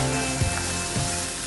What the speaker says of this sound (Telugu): సో ఇలా కొద్దిసేపు వేగనిద్దాం.